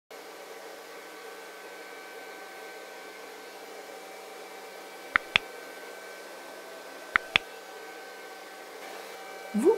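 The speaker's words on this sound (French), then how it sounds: "Et continuer à souffler la peinture." Steady blown air pushes acrylic paint across a Dutch pour canvas. It makes a continuous even hiss like a hair dryer, broken by a few short clicks, with a brief shift near the end.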